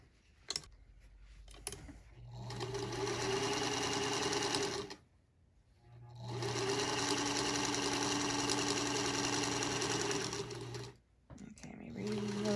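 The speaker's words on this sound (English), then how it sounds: "pull my 2x5 in and sew down the 2 inch side, stopping again at the corner" Singer Featherweight 221 sewing machine stitching fabric in two long continuous runs of steady whirring and rapid ticking, stopping briefly in between, close by and fairly quiet, with a short pause at the end.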